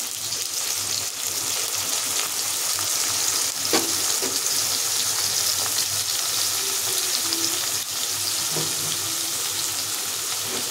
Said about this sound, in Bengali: মাছগুলো দিয়ে দিলাম তেলের মধ্যে